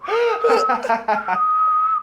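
A person whistles a clear, steady high note while someone talks over it; the whistle carries on alone at the end.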